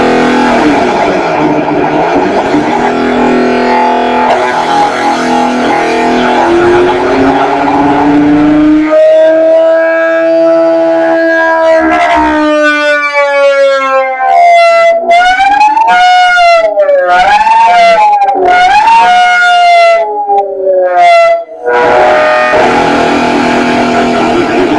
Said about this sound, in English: Give it some more distortion and just yank on it for a second.